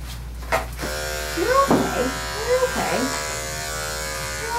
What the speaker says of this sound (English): Don't even look at the clippers.